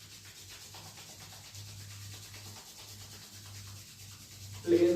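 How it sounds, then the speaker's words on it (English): Palms are rubbed together during a breathing exercise, a soft continuous dry swishing friction, close and quiet, steady for several seconds before a brief louder sound at the end. "Rub your palms."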